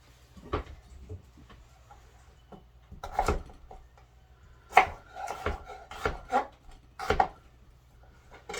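Knife chopping a small daikon radish into quarters and chunks on a cutting board: a series of sharp, close thunks at irregular intervals, some coming in quick pairs, over a quiet background with no talking.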